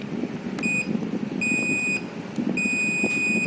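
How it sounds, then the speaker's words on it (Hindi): A multimeter on continuity test beeps while probing a laptop board with a no-power shorting fault, sounding three steady high-pitched beeps of varying length over a low background hum, with no speech. "ये देखिए दोनों साइड बीपिंग आ रहा है"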